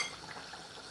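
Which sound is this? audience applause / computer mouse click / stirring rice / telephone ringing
stirring rice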